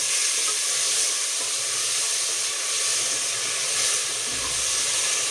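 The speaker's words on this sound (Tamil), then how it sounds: "மிளகாய், தக்காளி, வெங்காயம் எல்லாத்தையும் போட்டு" Chili, tomato and onion sauté in oil with a soft, continuous sizzling hiss that swells and fades slightly, heard alone without voices.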